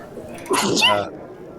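A single sharp sneeze bursts out mid-clip over a low background hum, loud and close.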